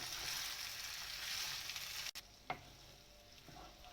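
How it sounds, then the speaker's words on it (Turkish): Rice toasts in butter in a pan on low heat for Uzbek pilaf, giving a faint, even sizzle with a brief stirring clatter midway. "Pirincimi 5 dakika kısık ayarda kavurdum."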